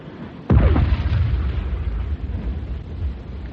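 A submarine deck gun fires a single loud, sharp blast that rolls into a long rumbling boom and lingering reverberation, heard alone in a radio drama battle scene.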